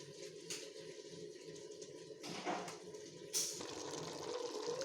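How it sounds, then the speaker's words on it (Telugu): Water poured from a glass into a pressure cooker holding a country chicken curry, a faint steady splashing trickle with short pauses and small clatters. "హాఫ్ గ్లాస్ వాటర్ వేసుకుందామండి."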